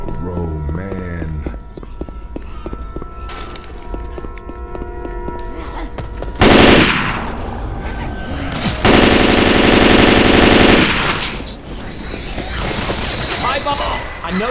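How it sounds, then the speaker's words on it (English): Rapid machine gun fire in the zombie shooter Left 4 Dead 2, loud sustained bursts with shots and game noise, with players talking over it. "It's a machine gun"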